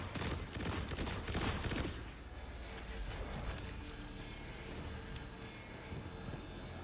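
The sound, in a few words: auto rifle firing in a video game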